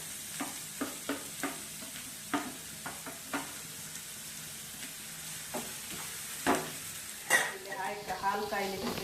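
Onions fry in a pan, giving a faint steady sizzle beneath intermittent knocks and scrapes of a stirring utensil, with a louder clatter near the end.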